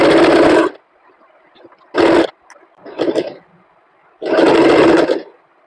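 An electric sewing machine stitches a folded 2.5–3 inch strip for a belt blouse in loud, close bursts of whirring motor, four separate runs with quiet pauses between them.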